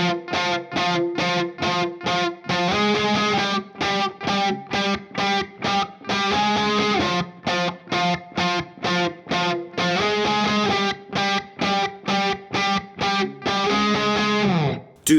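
D: Distorted electric guitar plays the pre-chorus part B of a song as a steady run of rhythmic chugged chords with short gaps, loud and close, with no talking.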